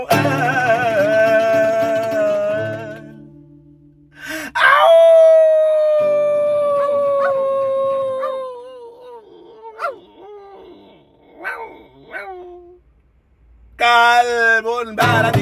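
A boxer dog from Paris howls in long, wavering, rising and falling tones across several drawn-out phrases, loud and close, with short gaps between the howls.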